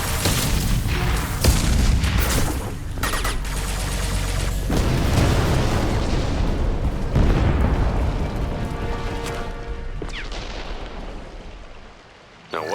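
Heavy weapons fire and explosions in Mass Effect 2 boom repeatedly in a loud, continuous barrage, deep blasts overlapping with crackling bursts, then fading into a brief lull near the end.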